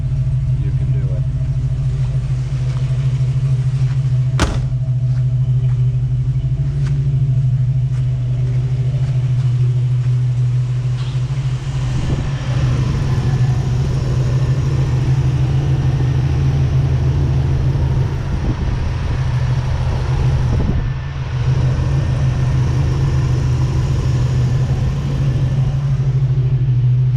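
A 1984 Hurst Olds V8 idles after a cold start, a loud steady low rumble with a sharp click early on and someone talking over it throughout.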